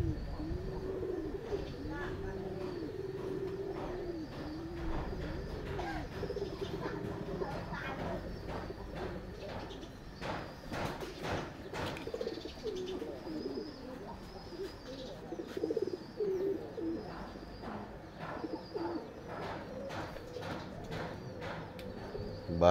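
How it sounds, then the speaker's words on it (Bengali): White pigeons coo in repeated soft, low calls at a village home, with chirps from other birds and faint background noise mixed in. "এই যে দেখেন সাদা কবুতর অনেক হয়ে গেছে এখন"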